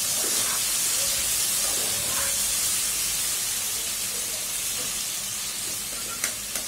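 Pointed gourd fries in a covered pan, giving a steady hissing sizzle that stays close and even, with a couple of small clicks near the end and no speech.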